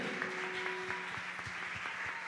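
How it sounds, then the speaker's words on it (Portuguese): Church congregation clapping at a youth worship service, a steady patter of many hands at moderate distance, fairly quiet and uniform with no voices over it. "aplauda o Senhor Jesus com toda a sua força"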